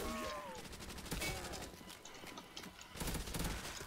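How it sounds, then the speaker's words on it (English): Thompson submachine gun firing in a World at War zombies map set in an abandoned school, quick repeated bursts of shots close up, with light game noise between. "it's a Tommy gun."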